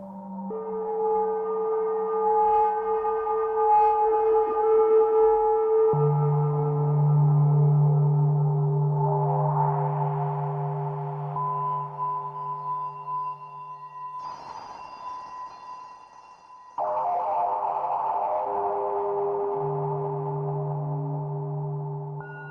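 A synthesized sound built from a white noise exciter and pushed into a more aggressive setting rings out as sustained, buzzy harmonic tones that shift in pitch, with a brief noisy burst midway. There is no talk.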